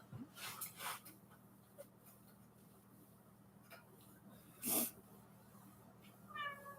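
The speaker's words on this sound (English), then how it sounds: "Meow. She wants outside with Kathy in the garage." A house cat meows indoors, with brief faint cries near the start and a short, louder burst before the end. People talk around them, and a steady low hum runs underneath.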